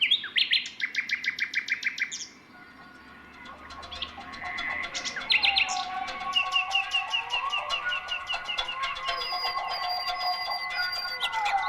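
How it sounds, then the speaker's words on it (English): Nightingale song outdoors: rapid repeated chirps and trills in rhythmic phrases, then a denser, overlapping stretch of whistles and warbles that carries on steadily, fairly close and clear. "The sound of the nightingale has also inspired the rustic poetry of John Clare."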